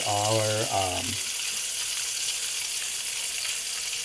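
Hot dogs sizzle steadily in a pan after a burst of harmonic voice-like sound at the start, a soft continuous hiss carrying on alone at close range.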